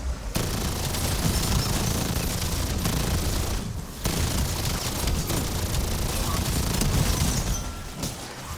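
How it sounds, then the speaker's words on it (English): An LMG in Black Ops 7 Zombies fires in long, rapid, loud bursts with a high fire rate, a continuous mechanical rattle of shots broken by one brief pause before the next extended volley. "I really like using this LMG in zombies"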